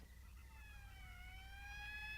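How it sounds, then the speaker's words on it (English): A faint, distant siren from an approaching morgue wagon wails in a slow rising and falling tone over a low background rumble. "That's the fifth siren in the last hour"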